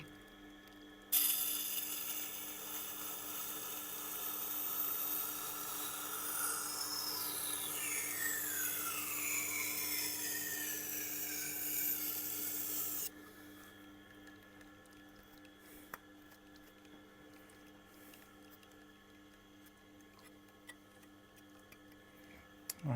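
A Nitro V knife is ground on a Tormek Blackstone wheel, producing a bright, steady scraping hiss for about twelve seconds with shifting tonal scrapes. It stops abruptly, leaving only a low machine hum.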